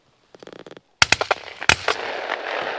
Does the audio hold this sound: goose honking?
no